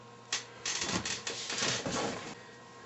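Screws are driven into 2x8 lumber with a power driver: a series of close, loud whirring bursts of varying length that run back to back over a few seconds.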